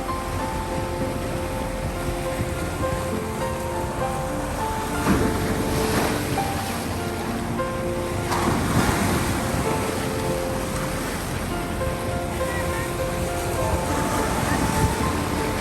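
Steady ocean surf rolls and washes continuously on the coast of Mindoro, Philippines, with louder surges of breaking waves at intervals, heard up close without any voices.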